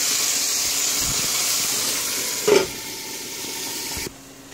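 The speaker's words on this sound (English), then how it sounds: "Our tomatoes are almost done cooking here." Tomatoes cooking in a hot pan give a loud, steady sizzle and hiss that continues throughout, broken by a brief clunk midway, then drops noticeably quieter just before the end.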